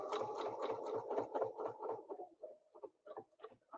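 A sewing machine runs in quick, even bursts while it double stitches a snowflake ruler quilt, a close rhythmic patter of needle strokes that slows and breaks into shorter, uneven runs near the end.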